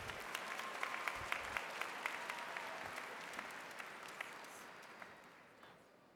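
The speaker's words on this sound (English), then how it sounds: "Please give these seniors a round of applause." Audience applause at a high school graduation ceremony, a steady crowd clapping that swells early and slowly fades over several seconds, with no talking.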